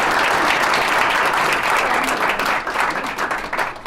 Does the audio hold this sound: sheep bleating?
no